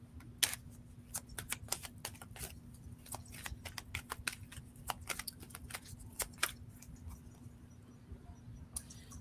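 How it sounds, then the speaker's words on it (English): Tarot cards pulled and shuffled from a deck at a reading: a run of crisp, close clicks and light slaps in irregular bursts over a steady low hum, with no voices. "I'm just pulling a couple of cards here for you."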